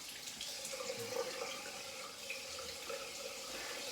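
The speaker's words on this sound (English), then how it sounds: "gonna have a rinse" Tap water running steadily into a sink as a face is rinsed after a shavette shave, a soft continuous splash with faint intermittent spatters, close and unaccompanied by talk.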